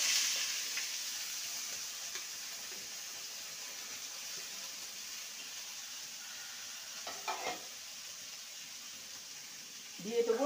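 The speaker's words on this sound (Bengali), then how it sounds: "এবার সবজিগুলো দিয়ে দেবো।" Vegetables fry in mustard oil in a wok with a continuous soft sizzle and hiss, broken by a few stirring scrapes and knocks, and a louder clatter near the end.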